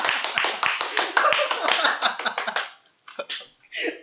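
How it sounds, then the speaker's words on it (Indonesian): A small audience claps along in quick, fairly rhythmic bursts for a few seconds, then the clapping thins into a few scattered claps and brief voices. "Ya tepuk tangannya."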